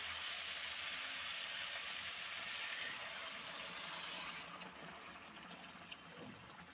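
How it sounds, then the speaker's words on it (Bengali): Hot water is poured into a pan of rohu fish curry with potatoes and pointed gourd, giving a soft, steady gushing splash that lasts several seconds before easing into quieter trickles and sizzling, heard faintly and alone. "তো এবারে আমি জলটা দিয়ে দেব। জলটাও গরম হয়ে গেছে।"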